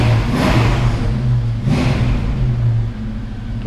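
A car engine revs hard and responsively under the pedal, two strong surges of rising roar with a steady low rumble between them, close and loud, no voices.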